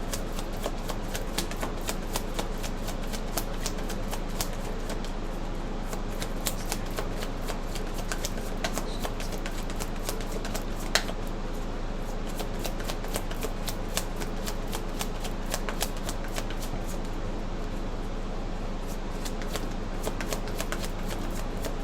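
A deck of cards shuffled over and over in a steady riffling rhythm, the crisp flutter of the cards close and clear with no talking.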